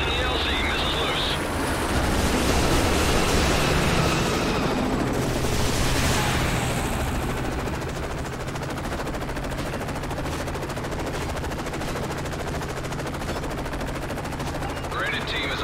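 Sustained automatic gunfire and explosive missile blasts in a Call of Duty: Modern Warfare 3 battle, a dense, loud, continuous barrage with rumbling booms, voices shouting over the combat.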